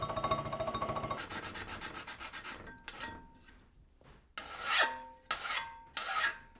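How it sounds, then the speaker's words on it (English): Stainless steel part edges deburred by hand with a file for kant-style clamps, giving a series of close, rasping scrapes in uneven strokes and short bursts, with no talking. "I'll clean off the edges and deburr them."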